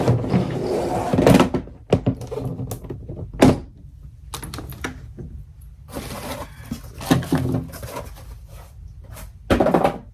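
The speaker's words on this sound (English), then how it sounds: "Tossing the box." A cardboard box is tossed, giving several hollow thunks and knocks spread over a few seconds, with rustling and handling between them in a quiet room.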